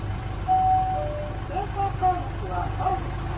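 Transtron truck voice-warning tone for the passing light: a sustained electronic beep, then a series of short warbling chimes and tonal blips over a continuous low engine idle.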